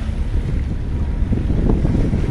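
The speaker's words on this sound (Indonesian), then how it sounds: "ini angin masih rada kencang" Strong wind buffets the microphone at a Sunda Strait ferry dock, a loud continuous low roar with faint water and boat sounds beneath it.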